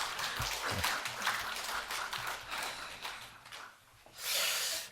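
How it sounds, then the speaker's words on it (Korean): Church congregation clapping for the choir, a dense, steady wash of applause from many hands, moderately distant and soft, swelling again near the end. "우리 박수 한번 쳐주십니다."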